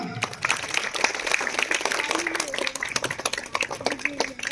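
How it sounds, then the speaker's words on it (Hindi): A school crowd claps hard and steadily at a Republic Day celebration, with an MLA attending as guest. The dense, continuous applause fills the whole stretch, and a faint voice rises now and then beneath it. "जोरदार तालियां।"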